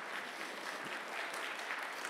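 A church congregation breaks into applause, a soft, continuous patter of many hands heard from a distance and fairly faint, steady through the whole stretch with no voices over it.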